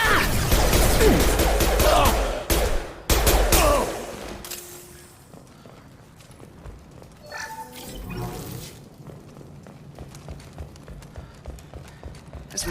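Gunfire in the sci-fi shooter game Mass Effect, a loud clattering barrage of shots up front that drops away into quieter scattered shots and mechanical clanks.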